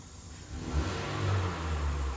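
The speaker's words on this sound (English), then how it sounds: "Kind of hard to hear with them revving the engine" A 2004 Ford F-150 with the Triton engine revs steadily at close range, the engine note rising and falling in a continuous rumble, with no talk over it.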